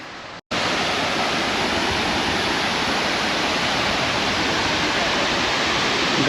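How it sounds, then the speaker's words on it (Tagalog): A waterfall roars in a loud, constant broadband rush, close by and unbroken after a brief gap at the start. "Ganda ng waterfall to"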